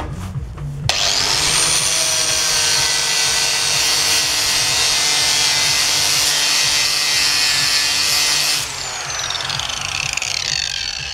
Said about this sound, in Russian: я взял болгарку и их буду счищать